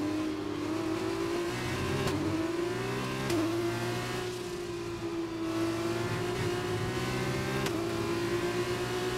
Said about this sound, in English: let's shift down the second gear